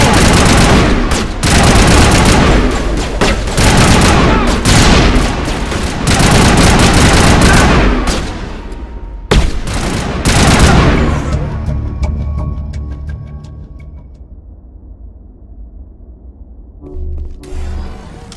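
Sustained loud gunfire from a sci-fi firefight in Mass Effect Legendary Edition, dense automatic bursts and booms for about nine seconds, then a final burst before the fighting fades to quieter ambience and a short late flurry.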